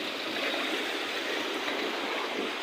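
Strong waves crash and churn in a steady, loud wash of surf, a dense continuous roar with no pauses and no voices over it.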